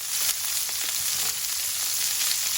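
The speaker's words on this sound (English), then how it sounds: "This is for that crispy, wonderful sear that you get with carnitas." Pork carnitas sear in a hot pan with a loud, dense, continuous sizzle and crackle, heard close up and alone with no voices.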